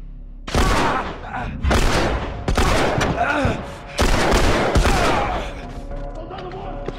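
Bursts of gunfire from The Last of Us video game, four loud clusters of rapid shots with booming impacts, separated by short lulls and ending in quieter rumble.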